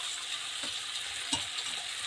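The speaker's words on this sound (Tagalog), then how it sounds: "Gisa-gisa muna natin yan." Food sautés in a hot pan, a steady bright sizzle with a few soft stirring scrapes and knocks, close and constant with no talking.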